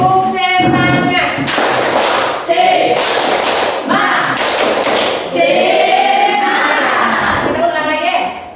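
A group of students doing a rhythmic spirit clap at the end of a class presentation, loud bursts of hand claps in a patterned rhythm, with talking voices in between the clapping sections.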